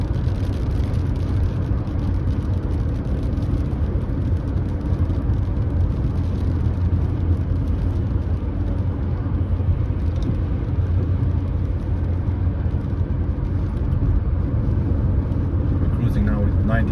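A 2015 BMW 520d diesel cruising at 90 km/h on a busy Irish road, with a steady, loud cabin drone of engine and road rumble that runs unbroken throughout.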